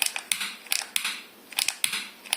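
Lighter wheel being flicked repeatedly while trying to light a scented candle, giving sharp close clicks in irregular bursts of one to three, with brief quiet gaps between strikes.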